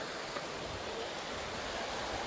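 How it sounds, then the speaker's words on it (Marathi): A faint, continuous rush of water gurgling and flowing near a large waterfall, even and steady throughout with no voices. "पाणी पण इकडं म्हणजे असं खळखळून जरा असा वाहत"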